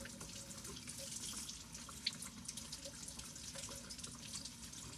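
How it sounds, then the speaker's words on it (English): A vegetable is rinsed under a running kitchen tap, giving a soft, steady stream of water into a sink with light splashing, faint and continuous throughout. "I'm gonna rinse it off."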